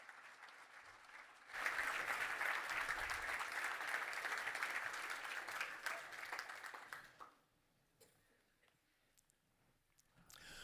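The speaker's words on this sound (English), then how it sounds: "let us give a warm welcome and a big round of applause for Alister McGrath." Audience applause welcoming a speaker to a lecture on science, reason and faith, bursting in loudly after a quiet moment, holding for several seconds, then fading out into near silence.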